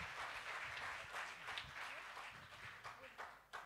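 Audience applause at a Christmas worship service held by an association of blind Christians in Indonesia, a soft, fairly distant patter of clapping that continues under a talking voice.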